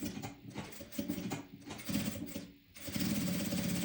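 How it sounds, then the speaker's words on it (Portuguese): Sewing machine stitching a curve slowly one stitch at a time at stitch length 2.5, close up, with short mechanical bursts broken by brief pauses as the presser foot is raised and lowered, then a steadier run at the end. "eu vou um pontinho de cada vez com o meu calcador, bem rente à minha curva."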